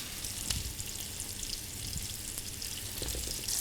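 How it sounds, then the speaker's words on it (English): Cajun-spiced chicken pieces frying in oil in a pan on modest to high heat, giving a steady, close, soft hiss of sizzling with faint crackles and pops throughout and no talking. "take our pieces of chicken and just lay them down in the pan"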